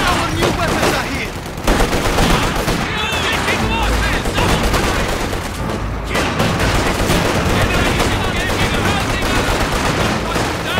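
Dense, loud gunfire rattles continuously through a Company of Heroes battle, with machine-gun bursts and rifle volleys layered over distant booms, while voiced commands come through in the mix.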